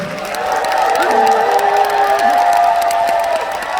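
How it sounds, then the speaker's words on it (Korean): A crowd of about a thousand at a stage show cheers and shouts steadily, with whoops and sustained tones riding over a loud, continuous roar of voices. "이 함성 소리 보세요."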